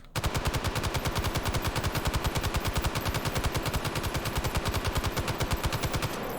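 M60 machine gun fired from its bipod in one long sustained burst, rapid evenly spaced shots roaring loud and close for about six seconds before cutting off, with no voices.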